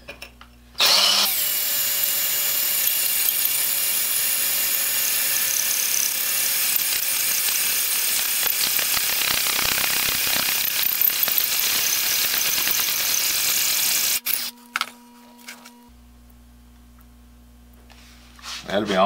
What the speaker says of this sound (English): Just letting the weight of the drill motor do the work.